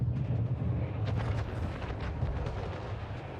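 Rumbling, eruptive bursts of cannon fire from a flame rocket ship in the Anno 1800 strategy game, a dense, continuous roar with a few sharper crackling hits, loud and close.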